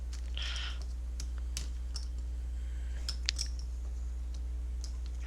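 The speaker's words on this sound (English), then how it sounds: "I'm so sorry if you hear, like, me shuffling poker chips" Poker chips clack softly and irregularly as they are shuffled up close, over a steady low electrical hum.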